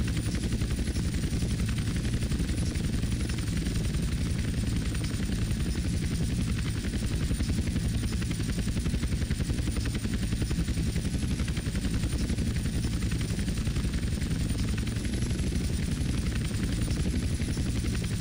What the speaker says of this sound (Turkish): Biraz sıkıntılı bir helikopter ama bakalım nasıl olacak.